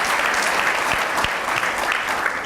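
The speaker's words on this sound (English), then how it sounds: "Let's give him a round of applause." A room full of people at a county kickoff event gives a round of applause, the dense, steady clapping filling the space evenly from start to finish without any talking over it.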